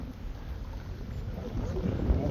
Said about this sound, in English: The wind is horrific today.